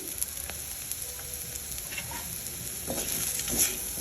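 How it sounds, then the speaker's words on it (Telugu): Bitter gourd frying in a pan, a steady close sizzle with soft stirring clicks, growing slightly louder toward the end. "చక్కగా ఫ్రై అవుతుంది"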